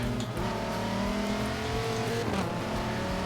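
Race cars in Forza Motorsport 7 at Hockenheimring roar through the hairpin, several engines droning and revving together with a faint tire squeal, loud and continuous throughout.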